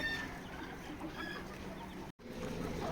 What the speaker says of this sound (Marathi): हे बघा माझे कोंबडे आहेत